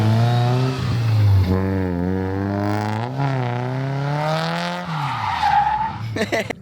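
A Mazda Miata drifts around a cone course, its engine note rising and falling in long revving sweeps as the tyres squeal and skid continuously, close and loud, ending in a few sharp bursts.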